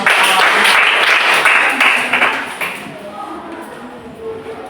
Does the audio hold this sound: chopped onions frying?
no